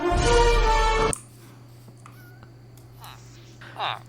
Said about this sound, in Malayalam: പൂച്ചനെ നമുക്ക് പിടിക്കാൻ പറ്റുമോ?